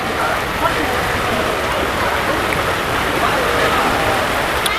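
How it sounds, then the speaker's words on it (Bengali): Heavy rain pours steadily at the Mahesh Rath Yatra fair in Serampore, West Bengal, with a dense, continuous hiss and patter throughout, loud and close, with no pauses. "বৃষ্টি একদম পুরো ঝমঝমিয়ে বৃষ্টি পড়ছে"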